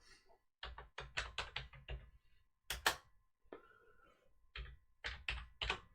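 Typing on a ThinkPad T430 laptop keyboard during an Arch Linux install, quick bursts of close, quiet key clicks with short pauses between words and a firmer thunk near the end.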